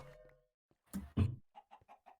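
Chickens clucking inside a Minecraft world, a few blocky game-style clucks rising out of quiet, scattered and close, with no talking over them.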